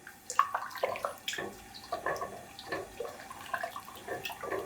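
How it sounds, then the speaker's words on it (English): Sugar being stirred into just-boiled water in a pot for limoncello, a spoon scraping and swirling liquid in repeated short strokes, close and fairly quiet with no talking. "So just stir it and continue to stir it until it finishes dissolving"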